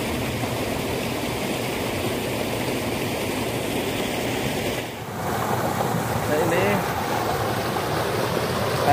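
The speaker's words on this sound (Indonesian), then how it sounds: "Air mengalir" Water from a Mount Ciremai spring rushes past in a steady broadband roar, loud and continuous throughout with a brief dip midway, outdoors with no other clear sounds.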